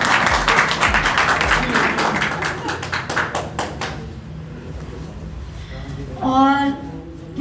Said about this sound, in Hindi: तालियां एक बारी इतनी जोर से बजा दो